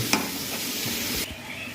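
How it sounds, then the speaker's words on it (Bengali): Potatoes frying in hot oil for a fish-head curry, a steady close sizzle with a few scraping stirs of a spatula against the pan, no voices. "এটা কড়া করে ভাজতে হবে আলুটা পুরো সিদ্ধ হয়ে যায় আলু ভাজা কমপ্লিট"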